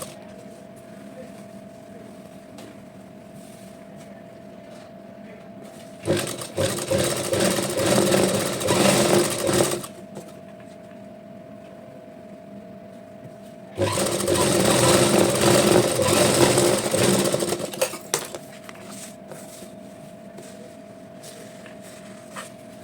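Two bursts of a sewing machine stitching along the buckram edge of a Patiala salwar, each about four seconds of fast, even whirring at close range, with quiet room tone and a steady hum between them.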